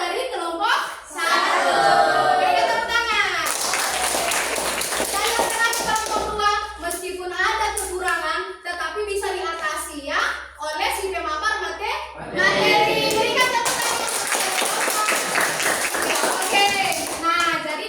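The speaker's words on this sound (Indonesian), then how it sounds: "Berikan tepuk tangan." A class of children claps their hands together in a classroom, brief bursts of applause breaking out between stretches of a teacher speaking and children's voices.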